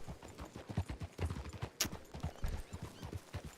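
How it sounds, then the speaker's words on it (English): Hooves of a trained working horse clip-clop in a video game, a steady run of fairly quiet, evenly spaced thuds heard on their own with no talk. "Good old working horse, Marshall trained."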